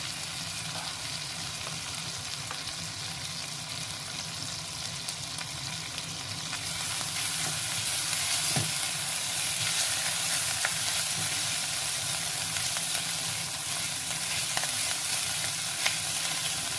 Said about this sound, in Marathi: ही पेस्ट चांगली परतून घेऊया